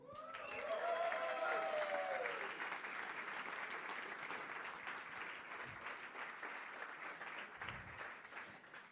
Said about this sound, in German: Großen Applaus für der NDR